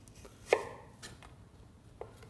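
A sharp knife cuts an apple into matchsticks on a board, giving a few crisp, close chops, one louder than the rest, spaced out over quiet.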